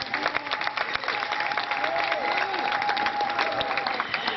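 Audience clapping for a sheikh at a gathering with prayers for an election: steady, dense applause filling the whole stretch, with a sustained whistle-like tone and crowd noise running through it.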